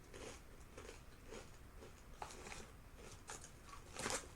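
Repeated crisp crunches of someone chewing potato chips, close up, in a steady rhythm with a louder bite near the end.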